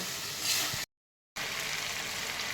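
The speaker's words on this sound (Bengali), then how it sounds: "এবার আমি মশলাটা খুব ভালো করে কষিয়ে নেব" Masala with turmeric and Kashmiri red chili powder sautéing in a pan for a vegetarian pointed gourd (potol) dish, giving a steady close hiss that drops out briefly midway and then resumes.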